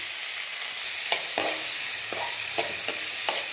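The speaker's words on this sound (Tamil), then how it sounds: "இப்போ பொடி பொடியாக அரிஞ்சு வச்ச இந்த சௌசௌவையும் ஃப்ரெஷ் பட்டாணியும் இதில் போடணும்." Finely chopped chayote and fresh peas hit a pan of sautéed onion for a Tamil poriyal: a steady close sizzle of frying, punctuated by several sharp scrapes and knocks of a spoon stirring.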